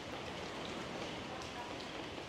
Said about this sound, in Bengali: সকালেও এখন টিপ টিপ বৃষ্টি পড়তেছে